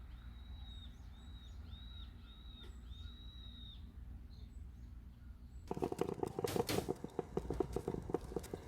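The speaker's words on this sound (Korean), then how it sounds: "조용한 가운데 들리는 것은 새소리뿐." Birds call in a quiet morning garden with potted succulents and flowers, with repeated thin chirps and whistles over soft background hiss, then a burst of brief rustling and clatter close by near the end.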